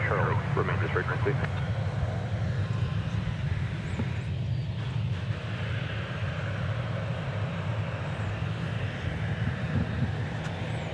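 An Air France Boeing 787 Dreamliner at DFW Airport, its engines giving a steady, distant low roar with wind noise over the microphone throughout.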